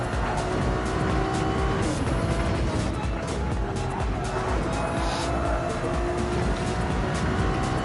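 A race car lapping the Barcelona circuit, its engine droning steadily at high revs with shifting pitch and some tire noise, while a commentator talks over it throughout.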